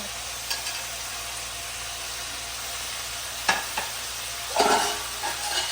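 Raw mango pieces being stirred into a simmering chicken curry in a pan, a steady background bubbling and sizzle broken by a few distinct scraping stirs of a spoon, each one sharp and close.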